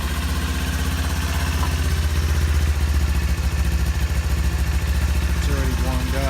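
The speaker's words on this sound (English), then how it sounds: "So let's give it a quick start." A Kawasaki Ninja 400 with an aftermarket exhaust starts and settles into a loud, steady idle, close and alone with no talk.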